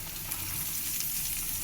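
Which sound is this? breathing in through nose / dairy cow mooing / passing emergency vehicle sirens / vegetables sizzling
vegetables sizzling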